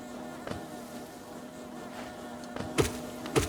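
Flying bugs in the video game Hollow Knight give off a steady low insect buzz, with a few sharp impact sounds cutting in near the end.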